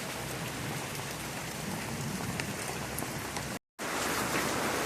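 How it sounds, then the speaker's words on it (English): Heavy Florida rain pours down in a dense, steady hiss of drops striking surfaces, loud and unbroken apart from a brief cut near the end, with no voices. "It's raining cats and dogs."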